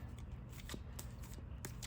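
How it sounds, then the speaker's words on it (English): A deck of Digimon trading cards is shuffled by hand in soft, rapid riffles and taps, quiet and close, with faint room noise underneath. "And now let's get a shuffle on this side."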